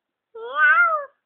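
A single clear meow from a voice imitating a cat, rising then falling, alone and close.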